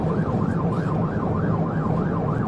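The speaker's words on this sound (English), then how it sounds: "Lights and sirens." A police car siren wails steadily during a pursuit, its rapid rising-and-falling yelp repeating in a regular cycle over loud road and engine noise, with no talking.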